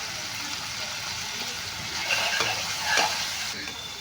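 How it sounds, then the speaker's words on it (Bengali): Tomato and spice masala sautés and is stirred in a pan, a continuous sizzle broken by a few scraping spoon strokes that swell slightly toward the end, close up and without speech. "এদিকে মশলাটা ভালো করে কষিয়ে নিচ্ছি"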